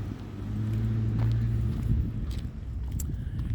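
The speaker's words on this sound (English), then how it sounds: "We'll let that FedEx truck go by because he's a little loud." A FedEx delivery truck rumbles past outdoors, a low engine drone swelling and fading over a few seconds, moderately loud, with faint scuffs and clicks nearby.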